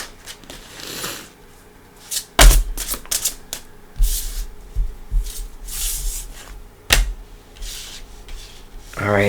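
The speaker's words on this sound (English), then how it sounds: "but I am going to shuffle." Tarot cards are shuffled close by in irregular bursts of riffling and rubbing, with sharp slaps and softer sliding sounds spread over several seconds.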